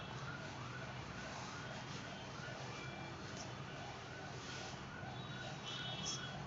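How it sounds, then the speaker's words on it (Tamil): An ambulance siren wails on a road near a house, its rising and falling tone repeating steadily over a constant background hum, with no one speaking. "அந்த ஆம்புலன்ஸ் சவுண்டு அதிகமாக கேட்கும் உங்களுக்கு"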